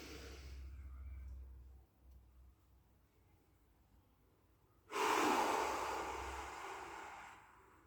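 A person doing a deep breathing exercise takes a slow, deliberate inhale lasting about three seconds. It is a steady, airy rush of breath that starts suddenly after a quiet stretch, with a low hum underneath.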